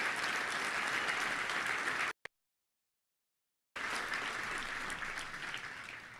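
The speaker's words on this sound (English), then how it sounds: "Let's give them a round of applause." Audience at a Little Rock Touchdown Club luncheon applauds former Arkansas Razorback players and coaches, a steady wash of clapping that cuts off abruptly into a gap of silence before resuming just as full.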